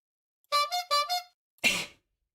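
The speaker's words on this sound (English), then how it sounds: "That's my love honk to you." Four quick, bright honks sound in a short rhythmic burst, followed by a single harsher, breathier blast, all loud and close against silence.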